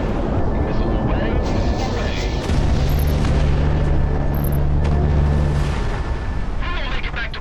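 A missile launches from a combat jet in the Project Wingman flight game, a loud sustained roaring burst of rocket exhaust over engine drone, with game radio chatter and talk over it.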